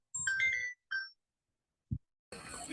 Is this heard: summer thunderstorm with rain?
no